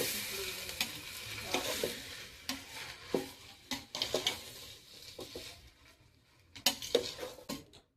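A spoon stirs prawn rice gravy in a pan, with repeated scraping sweeps, metal clinks and a gentle sizzle. The strokes come in uneven bursts, close and fairly loud.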